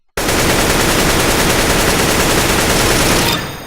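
Automatic rifle spray fire in Counter-Strike: Global Offensive, one loud, unbroken burst of rapid gunshots lasting about three seconds, starting abruptly from silence and stopping with a short fading tail.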